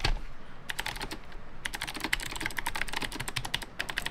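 Fast typing on an NMB RT8756CNW keyboard with black clicky Space Invader switches, a dense run of sharp, close key clicks in quick bursts with a short pause near the start.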